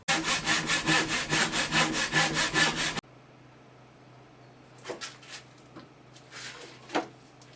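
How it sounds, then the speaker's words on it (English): A wooden hull strip for a small camping catamaran being rasped by hand: about three seconds of loud, rhythmic back-and-forth strokes up close, then quiet handling knocks and rubbing. "Some rasp work."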